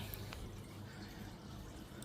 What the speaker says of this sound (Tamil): அதில் ப்யூரிஃபை ஆகி அந்த தண்ணி இங்கே வந்து இந்த பைப் வழியாக ரிட்டர்ன் ஆகி இது வழியாக உள்ளே பாயும்